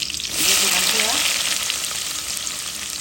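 Garlic hitting hot oil in a pan, for a Bengali jute-leaf curry with lentils and dried fish: a loud, close burst of sizzling that swells within half a second, then holds as a dense, steady hiss, with faint voice traces near the start.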